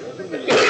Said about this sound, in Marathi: खोकला लागला इथे पाणी हल्ला तर तुम्ही पाणी लवकर पिया.